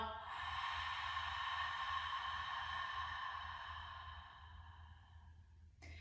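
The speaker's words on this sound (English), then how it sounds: "Long exhale." A single long, steady exhale through the nose or mouth during a quadruped breathing exercise. The breath is close and soft and fades gradually over several seconds, with no talking.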